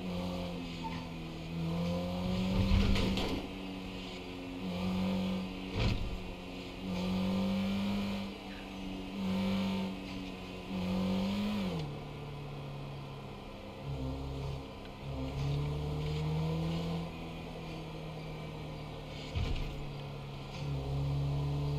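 A car drives up to a hospital, its engine a steady drone with gear changes and a few louder surges, interior road noise continuing throughout.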